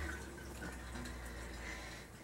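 Tap water running into a cup at a bathroom sink, a faint, steady trickle and splash with a low hum beneath.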